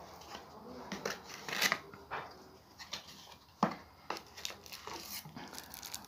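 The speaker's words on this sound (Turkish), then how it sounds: "Yavaşça kutuyu açalım." A cardboard product box for a Bluetooth music light bulb being slowly opened, with quiet scattered scrapes, rustles and brief tearing sounds, faint and close, without speech.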